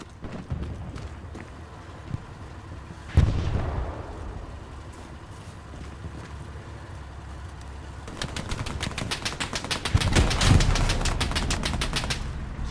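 Explosions and gunfire erupt while tanks are blown up in a war video game, with one heavy boom early on and a dense burst of rapid automatic fire later, loud and layered over constant battle rumble.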